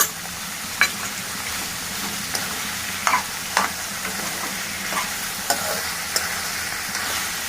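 Cauliflower and ginger garlic paste frying in a pan: a steady, close sizzle carries through, punctuated by occasional stirring scrapes and light spatula knocks, with no talking.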